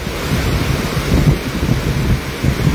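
Steady, loud rain pours outdoors in a fishing setting, a dense continuous hiss with a low rumbling wash throughout and no voices.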